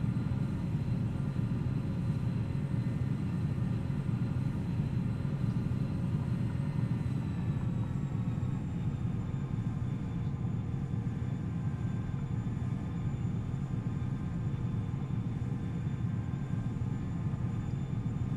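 A Bombardier Challenger 300 business jet climbs at full throttle in X-Plane 11, a dense, unbroken engine roar with a thin high whine whose pitch slides gently downward partway through, with no talk.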